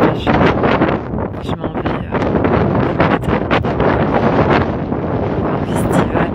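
Strong sea wind at sunrise buffets the microphone in a loud, continuous roar with gusty surges throughout, and a voice briefly speaks beneath it.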